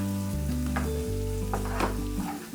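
Onion, ginger, garlic and a ground paste sauté in a pan for fish pirattal, giving a steady close sizzle with occasional stirring scrapes throughout and no talk.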